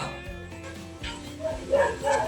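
A dog barks and yips a few times in quick bursts amid steady background noise, growing louder toward the end.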